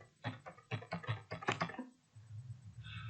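Fingers type on a computer keyboard in a brisk burst of close key clicks, followed by a short pause and a few softer taps, with no voices.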